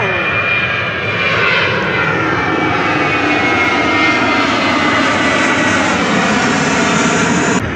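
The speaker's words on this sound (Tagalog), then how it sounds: "Teka lang, ito na namang aeroplano na to ba?" An airplane passes overhead, a loud, sustained aircraft engine roar that stays strong across the whole stretch, with a faint voice underneath.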